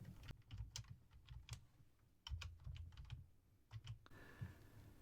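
Typing on a computer keyboard in a Debian Linux settings search bar: a quick, close run of light key clicks in uneven bursts with brief pauses, quiet and alone.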